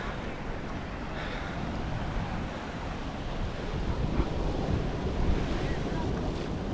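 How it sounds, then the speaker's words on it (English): Large ocean surf on a Puerto Rico beach at Arecibo rolls and crashes in a continuous roar, growing slightly heavier toward the end, with wind buffeting the microphone and no speech. "still here at this beach here with the huge waves that's coming in"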